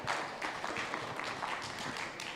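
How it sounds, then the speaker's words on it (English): An audience at a security talk gives a round of applause, a dense patter of clapping that stays fairly faint and even throughout. "Let's give him a round of applause"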